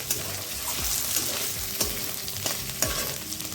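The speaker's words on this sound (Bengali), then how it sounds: "আদা কাঁচা লঙ্কাটা তিরিশ সেকেন্ড ভেজে নিয়েছি আর এবার দিয়ে দিলাম একটা টমেটো" Tomato with ginger and green chili frying in a pan, a steady sizzle broken by several soft scraping stirs of a spatula, close and moderately loud with no voices.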